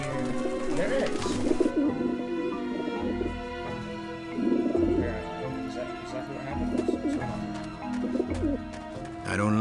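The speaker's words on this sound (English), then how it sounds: "I don't like the looks of those pigeons." Pigeons coo in soft, repeated rolling calls in the video game Grim Fandango Remastered, rising and falling in several bursts over a bed of game music and ambience.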